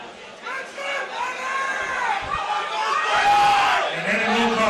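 A boxing arena crowd roars and cheers through fighter introductions at a pro bout, a dense, sustained wall of shouts, whoops and chatter that swells louder toward the end.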